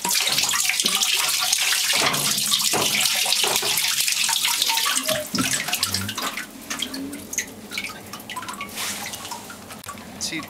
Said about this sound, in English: Oh, there actually is water in there.